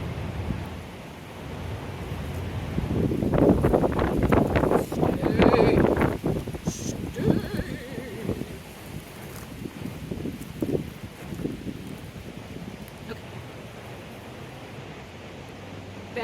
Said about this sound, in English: Bad day to choose an outside reading. It's really windy.